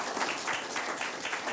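An audience at a forum on Trump and the American electoral system applauds a speaker, steady clapping from a room full of people heard briefly, with no talk over it.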